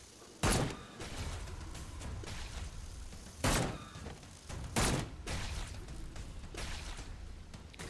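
Gunfire in the sci-fi survival VR video game Seeking Dawn: several sharp, loud shots spaced a second or more apart over a steady rumbling game background, with no talking.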